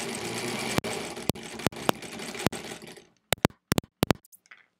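A 1938 Kenmore model 38 sewing machine stitching half square triangle quilt pieces, a steady mechanical whir with sharp clacks spaced through it, then quieter separate ticks and taps near the close.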